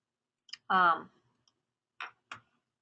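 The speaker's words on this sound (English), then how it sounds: "So you click on browse." A few sharp computer mouse clicks on a browse button, brief and close, separated by pauses, with a short spoken word among them.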